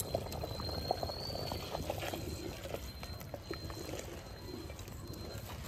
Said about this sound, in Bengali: আবার টক করে ফুটছে।